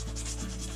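Sandpaper rubbed briskly over an RC scale Jeep Cherokee body shell, a close, dense scratchy hiss lasting under a second with no voices.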